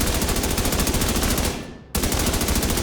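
Sustained automatic assault rifle fire at a video game firing range, a dense rapid stream of loud near shots that drops out for a split second and then resumes just as hard.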